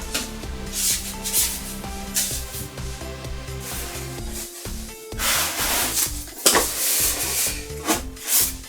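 The lid slides off the cardboard packaging box of an XM Studios Black Bolt collectible statue, heard as close, continuous rubbing and scraping of cardboard and foam with a few sharper rustling bursts near the end.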